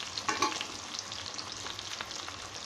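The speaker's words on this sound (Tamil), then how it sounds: "வெங்காயம் நல்லா ப்ரௌன் கலராக வதங்குற வரைக்கும் நல்லா வதக்கிக்கோங்க." Shallots fry for egg kulambu, sizzling steadily in a pan with a few stirring scrapes near the start, close and moderately loud, with no voices.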